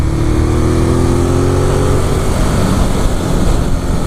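A 2018 Ducati Monster 821, new and still being run in, rides along a sunny English country road, its engine droning steadily and loud with a rising harmonic whine early on, mixed with wind rush and no talk.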